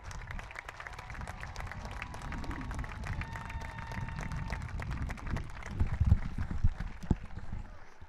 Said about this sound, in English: Let's give Alex and his family a big round of applause and show our support